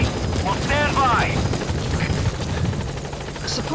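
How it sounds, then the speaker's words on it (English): A support helicopter arrives in Metal Gear Solid V: The Phantom Pain, its rotor a loud, steady, close chopping drone, with voices talking over it. "A support helicopter has arrived."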